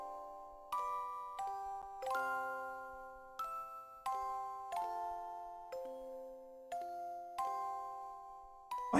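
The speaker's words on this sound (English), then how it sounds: "A bell." Bell chimes from the Xenogears PS1 game ring out clearly in a slow sequence of struck tones, each ringing and decaying before the next, forming a descending melodic pattern with no talking.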